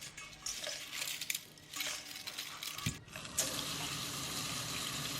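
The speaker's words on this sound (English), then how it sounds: "putting it in water, and letting it sit." Water runs from a tap and splashes into a bowl of dried seaweed in a kitchen, with light stirring and clinks in between. Quiet and close, ending in a steady stream of running water.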